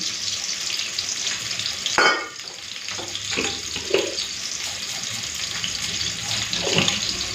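Tap water runs over ginger, garlic and onion being washed, a steady splashing stream with a sharp clatter near the start and small knocks and splashes throughout, close by, with no talk.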